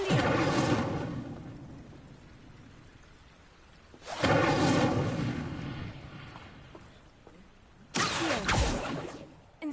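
A fire spell is cast three times in a Hogwarts video game. Each cast lands as a loud, roaring whoosh-blast at roughly four-second intervals, with the rumble fading between bursts and no voices present.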